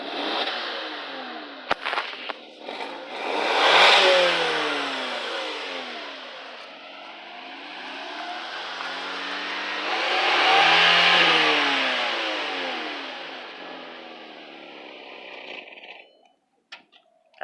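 A Volkswagen MK4 Jetta 1.8T engine is revved twice, one rise to about 3,000 RPM and another to about 5,000 RPM, each swelling and falling back to a steady idle, heard close with no voices.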